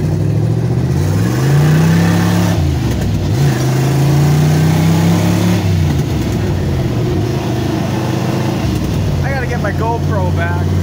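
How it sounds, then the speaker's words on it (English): A 1965 Plymouth Fury with a 440 V8 and four-speed manual drives along, its loud engine rising and falling through rough downshifts on a rusty-bearing transmission, with someone talking over it. "That's a little angry downshifting because this transmission has got some surface rust on the bearings."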